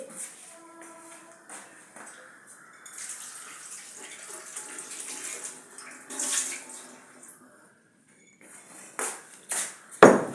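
Dates get rinsed under a running kitchen tap, water splashing and trickling irregularly with soft handling sounds and a few sharp clinks near the end, fairly quiet overall.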